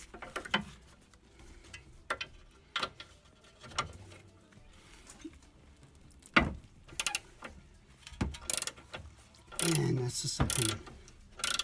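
Wrench loosening a sway bar end link nut on a Subaru Outback, a series of quiet ratcheting clicks in short bursts with knocks and scrapes, someone speaking briefly near the end.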